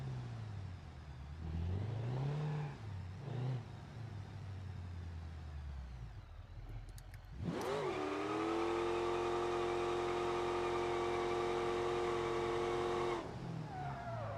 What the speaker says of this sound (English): Burnouts for distance.